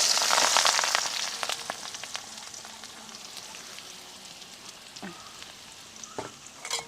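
Sliced shallots and green chillies sizzle hard in a hot pan as they are stirred, a loud close crackle that gradually settles into a quieter fry with occasional spatula scrapes.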